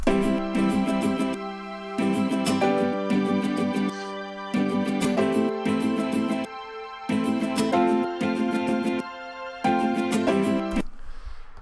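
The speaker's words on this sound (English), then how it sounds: "these strings are from the Korg M1" Korg M1 synthesizer strings play repeating sustained chords in phrases about two seconds long with short gaps between them. No voices are present.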